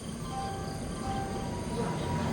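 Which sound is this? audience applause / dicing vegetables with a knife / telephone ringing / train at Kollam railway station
train at Kollam railway station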